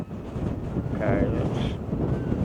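Strong wind buffets the microphone in a steady rumbling roar, with a faint voice and a brief whine from a DJI Neo drone partly buried beneath it.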